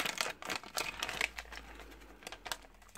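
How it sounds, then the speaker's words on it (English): A sticker packet is torn open by hand without scissors, giving quiet, irregular crinkling and ripping bursts of thin plastic close up with short pauses between them. "there's a bit I can rip. No scissors needed you guys."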